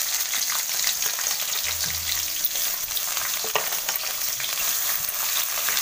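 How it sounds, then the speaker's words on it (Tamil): Sliced large onions sizzling steadily in hot oil in a pan while cooking vegetable kurma, a constant close crackling fry with faint stirring scrapes and no talk. "அடுத்தது வந்து நான் வெங்காயம் போடுறேன்."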